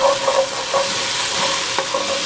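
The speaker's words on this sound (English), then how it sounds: "And stir that up." Garlic sizzles steadily in a hot pan while a utensil stirs it, with soft scraping strokes and small taps riding over the close, hissing fry.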